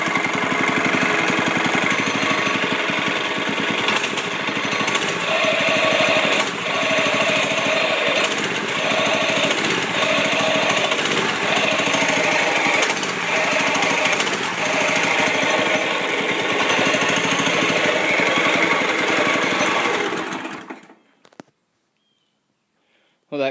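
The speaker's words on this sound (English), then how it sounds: "Well, that clutch is a little bit noisy," A noisy, rusty clutch on a UTV built from junk, idling in first gear with the rear tires blocked, making a loud, steady rattling engine drone with rhythmic knocking that runs until the engine cuts out near the end.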